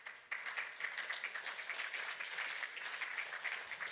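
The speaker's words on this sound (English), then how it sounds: "A round of applause, please." A conference hall audience applauds for the head of Russia's Federal Service for Intellectual Property, a steady, fairly faint wash of many hands clapping that carries on evenly without voices.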